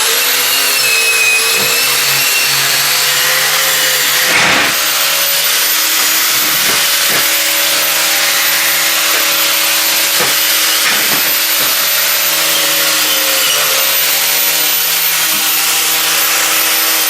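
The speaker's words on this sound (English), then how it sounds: "Watch out for them wire wheels, they can be a bit dangerous." A wire wheel on a power tool grinds against wood during repair of a double tree, a loud, continuous whining hiss with steady motor tones and occasional brief scuffing dips.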